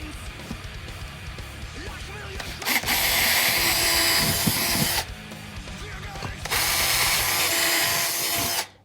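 A power drill bores a pilot hole for a saddlebag bracket on an Indian Scout motorcycle, with two loud, sustained whirring bursts separated by a short pause, and quieter handling noises and a voice before them.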